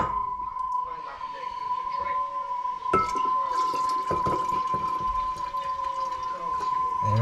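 Coffee kombucha is poured into a container, a steady liquid trickle with glassy clinks, a sharp knock near the middle, and a persistent tonal hum in the background.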